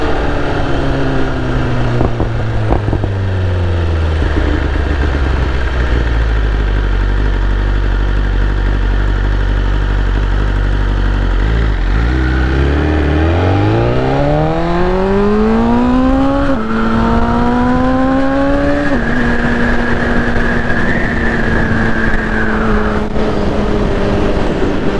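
A BMW S1000RR sport motorcycle engine roars loudly throughout, its pitch dropping to a low idle-like rumble, then climbing steadily through rising revs and a gear change into a sustained high whine.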